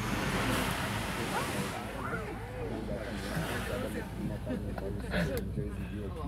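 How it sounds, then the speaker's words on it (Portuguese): Floodwater from a burst river rushes across the BR-101 highway near São José, heard as a loud, steady roar of surging water with wind buffeting the microphone throughout. "A água invadiu a pista"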